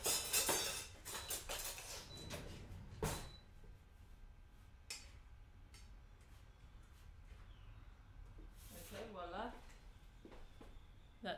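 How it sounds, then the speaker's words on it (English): Cooked rice for nasi kerabu being stirred in a pot, with scattered scrapes and clinks of a utensil against the pot's side, fairly close and uneven, amid kitchen rustle and light handling noise. "needs a little bit of a stir"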